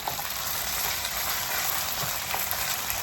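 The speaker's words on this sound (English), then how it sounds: "as I'm doing the stir fry" Steady, close sizzling and crackling of cornstarch-coated beef stir-frying in a hot pan, continuous and fairly loud with occasional light scraping.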